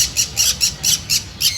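Bonded breeder pair of green cheek conures squawking nearby, about seven sharp, harsh calls in quick rhythmic succession.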